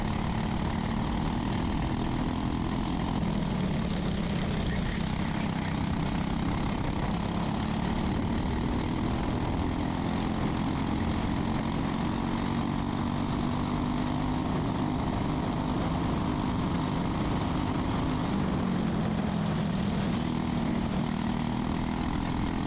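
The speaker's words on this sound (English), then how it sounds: "The rev limiter stopping my acceleration at 49 miles an hour" An LO206 racing kart engine runs pinned against its rev limiter at about 49 mph during a karting race. It holds a steady, buzzing drone at one pitch, with small wavers, for the whole stretch.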